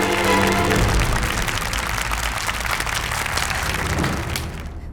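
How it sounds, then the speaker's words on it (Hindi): Loud applause from a studio audience during a TV challenge show, with a low booming musical sting at the start, settling into steady clapping before fading. "इनके लिए जोरदार तालियां प्लीज।"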